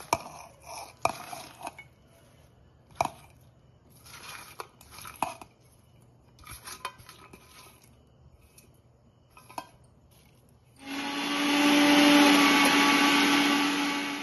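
A kitchen mixer grinds roasted onion, garlic and dry coconut, a loud steady whirring roar that starts abruptly after a stretch of scattered clinks and taps.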